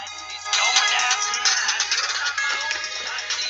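Music playing from an iPhone 4S speaker, a thin tinny song that starts after a brief silence and then runs on steadily.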